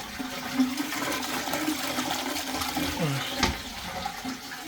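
A toilet flushes with a steady rush of water, then the cistern refills with a continuous gurgling flow, close and moderately loud, with a faint voice underneath.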